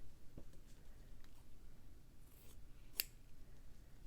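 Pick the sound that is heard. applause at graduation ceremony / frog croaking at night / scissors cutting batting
scissors cutting batting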